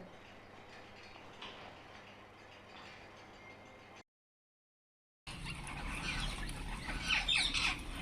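Parrots squawk and screech in a noisy flock, harsh calls overlapping, louder after a short silent gap.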